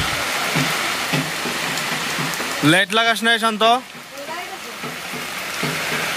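Steady rain hisses through a Diwali day in a village, with a person speaking briefly partway through over the continuous downpour.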